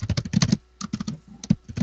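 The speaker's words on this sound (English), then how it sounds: "Let me type this out" Quick bursts of typing on a computer keyboard, clustered clicky keystrokes close up with a brief pause in the middle before the tapping resumes.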